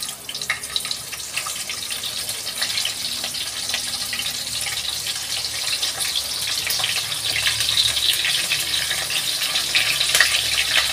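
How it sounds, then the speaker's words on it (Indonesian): Salted fish frying in oil for a spicy chili sambal, a steady crackling sizzle that builds slightly louder over the stretch, with no talking. "Goreng dulu ikan asinnya ya."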